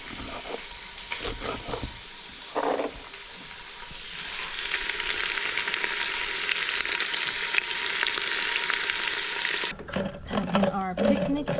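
Onion grass frying in a pot outdoors in the countryside of Somaliland, a loud steady sizzle and hiss with stirring, close by, with brief voices and background noise near the start and end.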